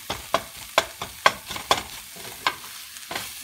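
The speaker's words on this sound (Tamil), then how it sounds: "கட்டியாக இருக்கிற சிக்கனெல்லாம் இப்படி இந்த தோசை கரண்டி வச்சு நல்லா குட்டி குட்டியாக" A dosa ladle scrapes and taps through cooked chicken in a pan for shredded kothu chicken, giving about nine sharp, evenly spaced scraping knocks over a faint background sizzle, close and clear with no talking.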